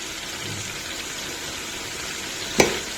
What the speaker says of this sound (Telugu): చూసారా వేగుతుంది కదండి.